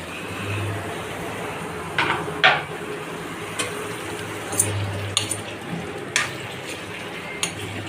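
Small brinjals for stuffed eggplant curry fry in a pan with a steady, close sizzle, broken by occasional sharp clinks of a utensil against the pan.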